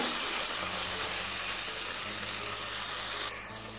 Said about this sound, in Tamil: இப்போ வந்து நம்ம குழம்பு மிளகாய்த்தூள் இதோடு சேர்த்துக்கலாம்